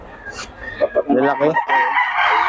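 A young gamecock stag crows loudly and close by, a single drawn-out call among a bit of clucking, with someone speaking briefly over it.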